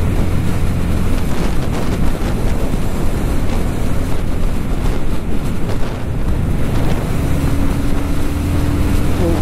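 Loud, steady roar of wind buffeting a rider on a 2023 Jawa 42 motorcycle in sixth gear, with low engine rumble underneath and a rising tone near the end, no talking.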